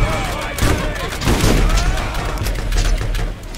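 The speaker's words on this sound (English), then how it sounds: "Taste the grenade, you fuckers!" Blasts and gunfire from a Borderlands firefight, loud and dense with booming thumps packed together across the whole stretch, a grenade going off amid steady shooting.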